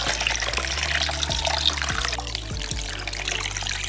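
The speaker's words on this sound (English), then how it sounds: "And pour some cold water." Cold water pours steadily over a soy sauce and doenjang turkey brine, a continuous close splashing stream with a few gurgling shifts as the level rises, no voices.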